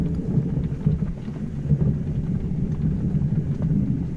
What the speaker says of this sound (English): yep, there's a little bit of thunder there